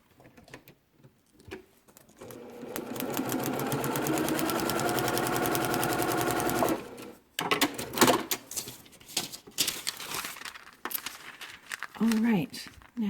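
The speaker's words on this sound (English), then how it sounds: "now we're going to sew on the line between 2 and 3" A sewing machine stitches a quilt block seam in a steady, fast-running burst of several seconds, with talk before and after and some fabric handling around it.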